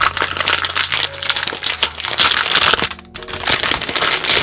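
Loud crinkling and crackling of plastic wrap being pulled and torn from a package holding a crystal resin mold, close up, in irregular bursts with a brief pause near the middle.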